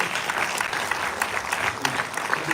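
An indoor audience at a live Q&A gives a round of applause for an editor, a dense steady patter of many hands clapping at close range.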